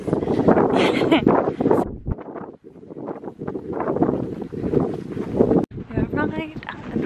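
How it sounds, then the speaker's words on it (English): Gusty wind buffets the microphone in rough bursts while a person talks over it, outdoors at the Blue Lagoon in Iceland. "Oh, it's windy."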